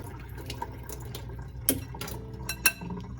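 Water poured off sprouting lentils in a jar, with a soft liquid trickle and a couple of sharp glass clinks against a quiet kitchen background.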